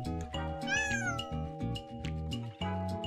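A cat meows in the video game I Am a Cat. One clear, close, drawn-out meow rises and falls in pitch over a steady, layered musical background, with no talk.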